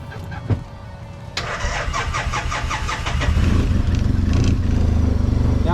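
An Arctic Cat WildCat 700 Trail side-by-side starts from cold: a clunk, then the starter cranks in a fast chatter before the engine catches and settles into a loud, rough idle, close by and without voices.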